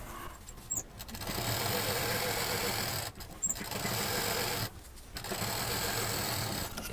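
A sewing machine stitches patchwork fabric pieces together in fast, steady runs, stopping briefly twice between passes, close and even in rhythm.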